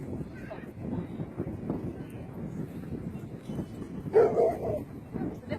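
Dogs bark and yip during outdoor leash-reactivity training with an e-collar, a short burst standing out near the end over steady background noise and someone talking throughout.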